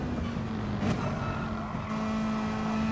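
A race car in a racing video game run at FIA Manufacturers round 22 brakes and drops revs, a steady engine drone with a brief tire squeal, close and fairly loud, no voices.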